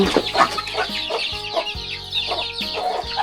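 Several chickens cluck and squawk close by in a crowded crate on a rural Lao farm, with overlapping calls coming in uneven bursts throughout.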